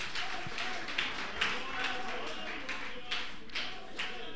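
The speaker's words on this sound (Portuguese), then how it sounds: "Então aplaude Ele nesta noite." A church congregation claps in praise during an evening worship service, with irregular bursts of clapping under a preacher's voice and background music, moderately loud and lively.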